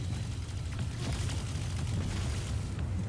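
Continuous heavy rumbling blasts from cannons in the Destiny 2 video game, a dense low booming wash that stays loud for the whole stretch.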